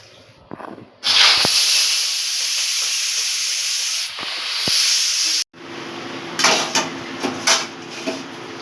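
Salted, turmeric-coated prawns are fried in hot oil in a wok, giving a loud, close, sizzling hiss that starts abruptly, briefly cuts out, then resumes with crackling bursts.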